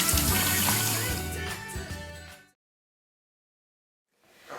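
Running tap water splashes steadily at a bathroom sink while a face is rinsed, continuous for about two seconds before cutting to silence, then a soft return of water at the end.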